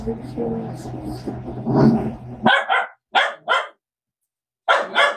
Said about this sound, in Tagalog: Ang dami namang aso.